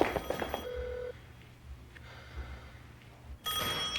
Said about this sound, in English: We're gonna answer the phone.